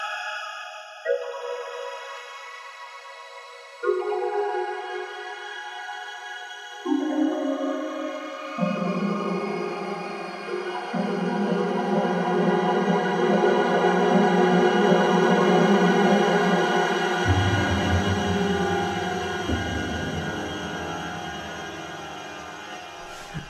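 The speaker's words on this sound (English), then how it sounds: "That shimmer reverb never fails to make me smile." The Soundpaint Bras Water Pipes virtual instrument, played through shimmer reverb, sounds a descending series of sustained notes. Each note enters with a soft strike and blends into a swelling, glittering wash that thickens steadily.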